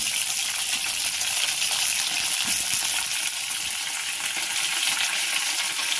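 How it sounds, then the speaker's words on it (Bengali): Potatoes fry in hot oil in a wok with a loud, even, unbroken hiss of bubbling oil heard close up, steady throughout with no voices. "আগে আলুটাকে আমি ভেজে নেব"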